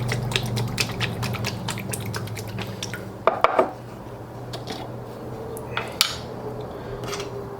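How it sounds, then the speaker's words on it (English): A lidded container holding a cold summer salad with herbs is shaken hard, giving a steady rattling slosh of food against plastic, then a few sharp knocks and clatters as it settles. "Then we put the lid on and give it a really good shake."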